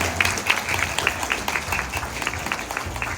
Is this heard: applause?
yes